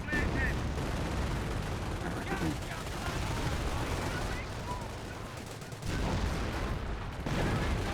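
Continuous battlefield gunfire in Company of Heroes, dense overlapping rifle and machine-gun shots with distant booms, steady throughout with voices faintly mixed in.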